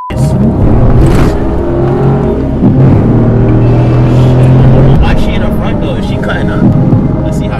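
A Honda car speeding on a highway during a police chase, heard from inside as a loud, continuous engine and road roar that swells and eases, with voices talking over it.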